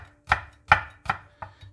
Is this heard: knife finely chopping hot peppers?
yes